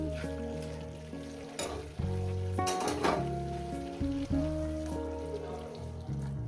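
A spice mixture with turmeric poured into boiling hot water in a pan while cooking a mustard-poppy seed pabda fish curry, giving a soft sizzling, bubbling wash with a few sharp splashes and clinks over steady background music.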